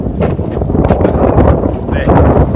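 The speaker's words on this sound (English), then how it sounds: "I actually did go behind the car because it's very windy" Strong coastal wind at a crayfish town in Cervantes buffets the microphone, a loud, continuous rumbling roar with gusty surges across the short stretch.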